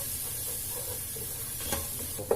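Green chillies sautéing in a pan for a Thalassery chicken dum biryani give a steady soft sizzle with a faint stir-like scrape near the end, close and alone without voices.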